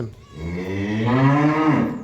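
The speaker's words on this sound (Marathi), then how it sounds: "चमचमची मम्मी वराडली बघा इकडं." A buffalo at a farm gives a loud, close bellow lasting about two seconds, a deep drawn-out call rising in the middle and tapering off, with no talk over it.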